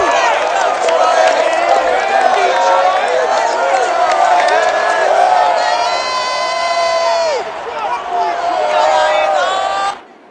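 A large video game stadium crowd at Ford Field in Madden NFL 22 cheers and roars continuously, with whoops and shouts rising and falling, and a commentator talks over it before it cuts off.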